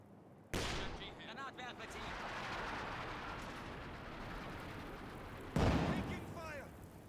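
Squads of Panzer Fusiliers open fire in a Company of Heroes 2 battle: a sudden burst of gunfire with rattling shots that eases into a steady din, then a second sharp burst near the end. Background talk sits faintly underneath.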